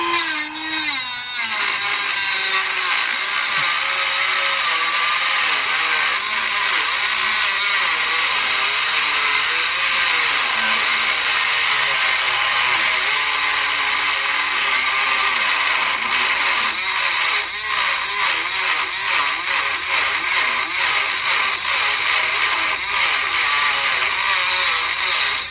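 A power tool cuts through metal on a Subaru Impreza STI front sway bar, giving a loud, continuous, harsh grinding whine with shifting pitch that runs steadily for about 25 seconds with no talk.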